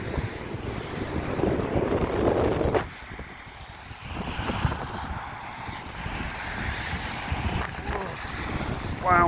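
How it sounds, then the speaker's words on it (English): Strong, blustery Storm Debi wind buffets the microphone on Blackpool promenade, roaring loudly in gusts with a sudden lull partway through, while rain and surf add to the broadband rush. "bloody wind's biting"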